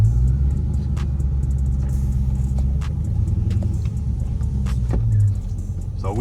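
A modded Dodge Charger widebody rumbles loudly and steadily from close range as it drives and pulls through, its deep engine drone holding throughout and easing off slightly near the end, with no voices.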